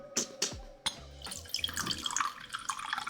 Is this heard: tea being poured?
yes